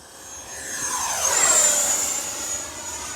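H-King Flycat 70mm 6S electric ducted fan RC jet flying past, a steady high-pitched turbine-like whine that swells as it nears and fades away, with no talking.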